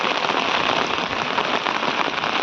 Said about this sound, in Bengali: চলো আর বেশিক্ষণ দাঁড়াবো না বৃষ্টি পড়ছে তো